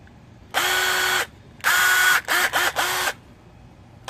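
A Stanley 20V hammer drill, model SCH201C2K, runs in a one-second burst close by, then fires in a longer run and a quick series of short trigger pulls, each with a whining motor.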